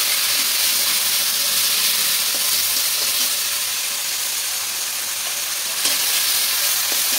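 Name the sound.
mixing food with soy sauce in a frying pan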